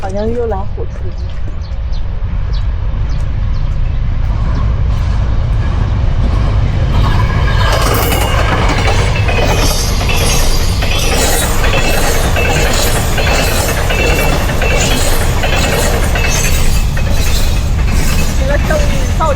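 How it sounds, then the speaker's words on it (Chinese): A train rumbles past on nearby tracks in an old, poor neighborhood, a continuous loud, low mechanical roar with rattling wheels that builds and holds throughout, while a person talks over it. "好像又来火车了。"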